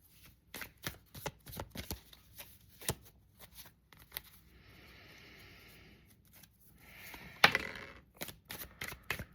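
Tarot cards shuffled by hand at close range: a run of crisp individual card flicks and taps, with two longer riffling stretches in the middle, quiet and without talk.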